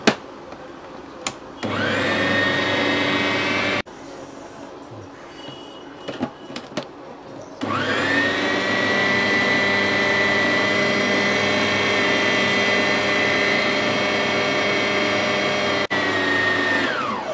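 A kitchen mixer grinder whirs loudly as it grinds cooked puran, running in a steady high whine, pausing briefly with small clicks and handling sounds, then starting again for a long continuous burst.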